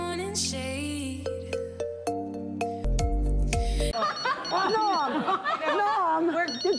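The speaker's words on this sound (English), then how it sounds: "The phone is ringing." A telephone rings in a late-night talk show studio, with repeated bell-like tones near the start, followed by people talking and laughing over it.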